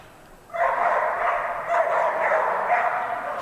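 Dogs yip and bark continuously in a busy arena during agility world team tryouts, including Heather Christensen's dog London, a steady dense chorus of barking carrying through the space.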